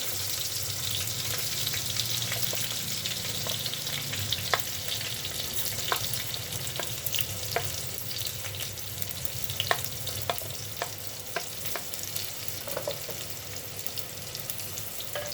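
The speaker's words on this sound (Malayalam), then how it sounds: "ഇത് ആദ്യം സവാള അരിഞ്ഞത് ഇടുക ഇടത്തരം രണ്ട് സവാള അരിഞ്ഞത്" Two medium chopped onions fry in a pan for a palak chicken curry, giving a steady close sizzle and hiss with scattered sharp crackles and pops throughout, no voices.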